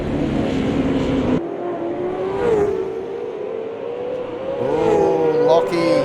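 Race cars at the Adelaide 500 street circuit roar through the staircase section, engines droning and shifting in pitch as the pack passes, with a commentator talking over the steady motor noise.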